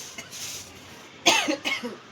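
A person outdoors in cool, windy weather coughs a few times close up, sharp bursts after a quiet stretch of soft background noise.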